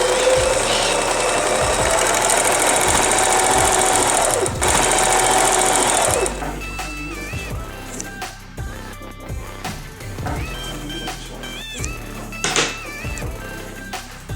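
Sewing machine stitching a fabric seam, loud and close, a steady fast mechanical whir for about six seconds, then shorter, lighter bursts of stitching with pauses in between.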